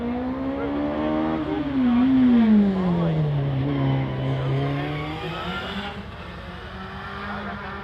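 A hill climb race car at Loton Park accelerates hard over a crest. The engine note rises, drops with gear changes, then swells again, loud and fairly close, with a commentator's voice beneath it.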